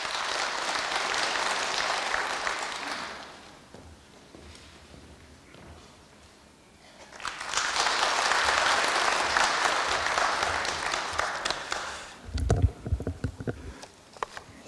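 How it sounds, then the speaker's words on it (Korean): Audience at a Korea University anniversary ceremony applauding to welcome a speaker, two long swells of clapping in a large hall with a quieter gap between them, followed by a few thumps as the speaker reaches the podium. "박수로 맞아주시기 바랍니다."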